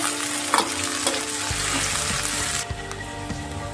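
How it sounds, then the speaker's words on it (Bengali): Onions frying in a pan on the stove while being stirred, for a dish of water spinach with hilsa fish roe; steady close sizzling with scraping stir strokes throughout, no talking. "নাড়া শুরু করলাম। চুলায় পেঁয়াজ দিয়ে দিলাম।"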